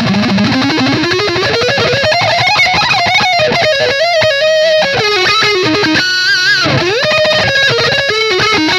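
Screaming lead tone from an electric guitar through a Wampler Triple Wreck pedal, with gain way up, mids up and boost off, plays a loud, continuous, distorted melodic line with bends and sustained notes.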